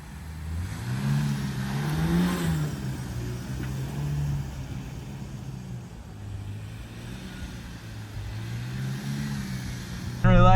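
A Ford Ranger truck engine revs up and down in a front yard during a failed burnout attempt, a steady mid-low drone rising and falling in waves and ending with a louder surge.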